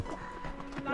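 Horse hooves clip-clop along a trekking route up to Laguna Humantay in Peru, a steady close rhythm of hoof strikes under a voice talking for the whole second.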